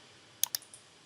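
A computer mouse clicks a few times at close range while objects are selected in drawing software: two sharp clicks, then a couple of fainter ones, over a quiet background.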